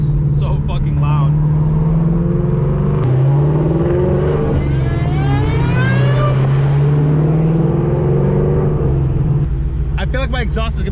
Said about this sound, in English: Pops are just so fucking loud.